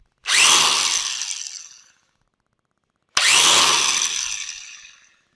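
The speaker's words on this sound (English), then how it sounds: "we're just going to grind some of this heavy stuff off" Two loud bursts of a DeWalt angle grinder fitted with a brass wire brush, scouring heavy buildup off a 2005 Ford F150 truck bed, each about two seconds long with a short silent gap between.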